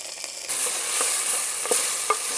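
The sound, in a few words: turmeric and spices being sautéed in a pan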